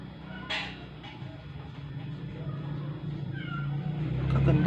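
A sick, weakened cat meows a few times indoors, faint cries over steady low background noise, with a brief louder meow near the start.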